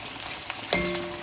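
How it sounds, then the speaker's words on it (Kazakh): Meat and onions fry in an open pot of oil for Uzbek plov, a steady close sizzle with a brief clank near the end. "Бетін ашық етіп, осылай етімізден қалған пиязымызды қуыратын боламыз"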